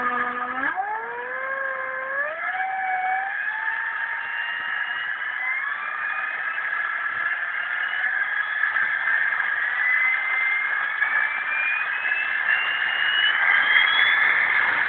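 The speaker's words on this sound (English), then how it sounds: "You can hear that motor." An old SepEx electric motor run by a controller throttle gives a loud, continuous whine that slides upward in pitch in the first few seconds, then holds and creeps higher, steady and close with no talking.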